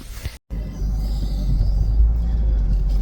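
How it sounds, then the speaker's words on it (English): A Jeep engine turns over and settles into a steady low idle rumble after a brief silence, close and continuous at a hunting camp on public land. "Oh, Jeep started, so that's good."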